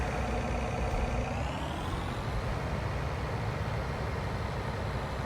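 Combine harvester from Farming Simulator 19 driving along, a steady droning engine rumble with a slowly rising whine, constant and moderately loud throughout, no voices.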